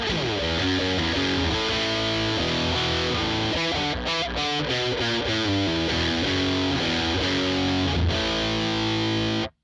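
A heavily distorted electric guitar through a Boss OS-2 distortion pedal plays a continuous riff of sustained, gritty chords, loud and close, before cutting off abruptly at the end.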